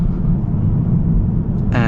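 A 2023 Genesis G70 with the 2.0-liter turbo engine drones steadily while driving, a loud continuous low rumble with some road noise, and a brief brighter whine near the end.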